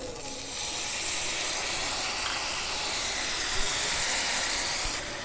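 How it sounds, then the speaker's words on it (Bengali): Ginger paste goes into moringa drumstick stems frying in a pan, raising a steady, loud sizzling hiss that runs unbroken for the whole stretch with no talking. "এখন এই আদা বাটাটা দিয়ে দেব।"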